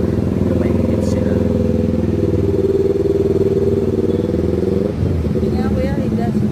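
Near and loud, a motorcycle engine with a stock exhaust pipe idles and burbles steadily, with a brief dip and slight rev near the end, under faint background noise.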